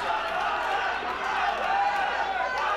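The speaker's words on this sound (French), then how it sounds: "Et la foule scande TDT." A wrestling crowd at a live tag-team match chants for the team TDT, a dense, steady roar of many voices filling the hall without a break.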